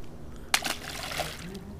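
A released flathead fish splashes back into the river at night, a single short splash followed by faint trickling water, with quiet talk around it.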